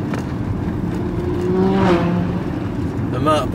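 A motorbike engine drones past on a road with a rising and fading whine, continuous road noise underneath and brief voice near the end.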